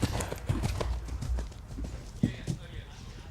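Hooves clip-clop as the final horse of the day crosses an eventing cross-country course at Blair Castle, approaching a fence, with a commentator talking over the rhythmic thuds and a louder hoof strike near the end.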